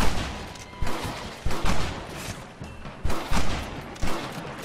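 Gunfire from a shootout in Red Dead Redemption video game, several sharp loud shots spaced irregularly with rolling echo decaying between them, close and dominant.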